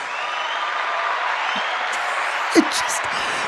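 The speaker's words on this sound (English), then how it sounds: "They're clapping." Audience applause for artist Hunt Slonem, a continuous wash of clapping from a crowd, steady and moderately loud, with a voice talking over it.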